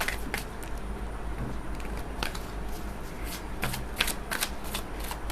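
A deck of tarot cards is shuffled continuously up close, crisp papery flicks and riffles over a steady background hiss, with a few sharper snaps toward the end and no voices.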